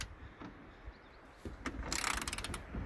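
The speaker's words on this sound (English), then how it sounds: "Trying to use my forearm with the ratchet." Ratchet clicking as a bolt is worked loose on a 7.3 truck engine, a few faint isolated clicks early, then a quick burst of rapid close ratcheting strokes near the end.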